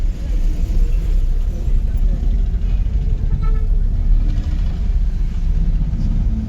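A car rolls in low gear over a rough road during a driving lesson, giving a steady deep engine rumble and cabin road noise with no break, heard from inside.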